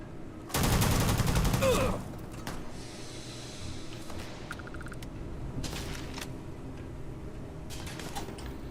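Gunfire in the Starfield video game: a loud dense burst of rapid shots for about a second and a half, then quieter scattered mechanical clicks and game effects, with no talking.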